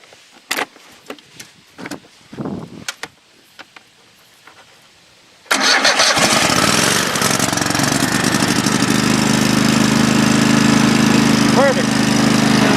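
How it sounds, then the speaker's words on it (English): After a few seconds of quiet handling noises, a lawn mower engine fitted to a drag cranks and catches, then runs loudly and steadily at close range. "let's fire up one of these lawnmowers and see how that drag goes"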